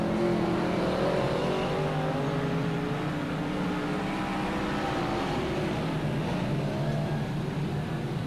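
Stock cars racing at a 1999 Auckland teams championship meeting, a continuous loud roar of several engines droning and revving together without a break.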